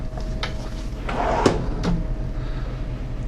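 A few wooden kitchen drawers in a 2020 Newmar Dutchstar 3709 RV slide and bump shut, one sharp knock standing out among softer clunks, close by in a quiet room.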